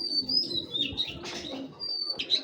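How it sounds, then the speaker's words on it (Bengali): A female game pigeon at a pigeon farm coos in low, soft rumbling phrases, with higher bird chirps mixed in nearby throughout, and no one talking. "মাদি কবুতর ভাই"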